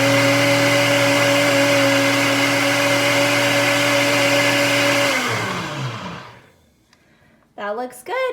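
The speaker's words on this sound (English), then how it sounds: "Let's blend it for 5 more seconds and then we'll be ready to cook." A kitchen blender whirs steadily at high speed through eggs and spinach, loud and close, then spins down and stops, followed by a brief bit of talk.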